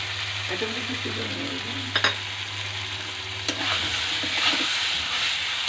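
Food is stirred and sautéed in a pan with a steady close sizzle, a low hum underneath and a few sharp clinks of the utensil against the pan.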